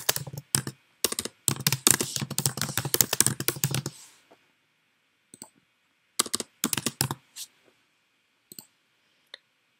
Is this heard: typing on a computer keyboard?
yes